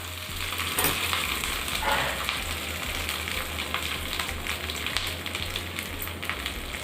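Curry leaves hit hot oil with a sharp crackle, then settle into a steady sizzle and spatter, close up and moderately loud.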